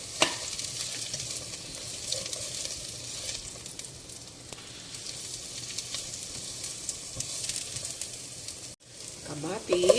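Chopped onions and garlic sizzle and fry steadily in a hot pan at a home kitchen stove, a continuous crackling hiss with brief stirring scrapes near the end.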